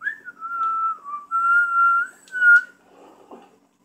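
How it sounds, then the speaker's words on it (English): A person whistles a steady, wavering tune up close, with several sustained notes in sequence, then a few softer breathy attempts before fading out. "I'm trying to learn how to whistle."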